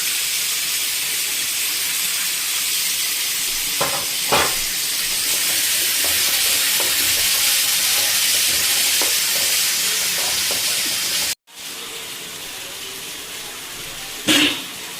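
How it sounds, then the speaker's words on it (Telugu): Tomato frying with ginger garlic paste in a pan for a dry fish and drumstick tomato curry, producing loud steady hissing sizzle with a few scraping stirs, briefly cut off near the end before resuming. "అల్లం వెల్లుల్లి పేస్ట్ వేసుకొని పచ్చివాసన పోయేలాగా వేయించుకోవాలన్నమాట."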